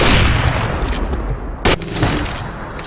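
Rapid bursts of game gunfire, loud and close, with a sharp single shot standing out partway through.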